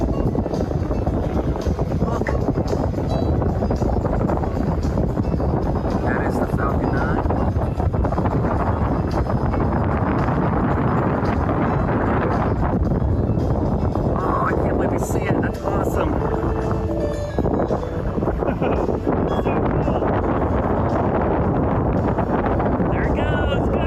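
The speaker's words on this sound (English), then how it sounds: "Besides it being a little windy, you can hear like the theme park music playing in the background." Gusty wind buffets the microphone outdoors at Walt Disney World in Orlando, with theme park music faintly playing in the background under steady broadband roar; voices are heard now and then.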